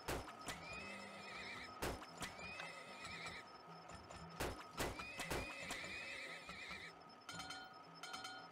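Horses neigh and whinny repeatedly over steady clip-clopping hooves in the oil-drilling video game Turmoil, with several sharp clicks and a busy background ambience throughout.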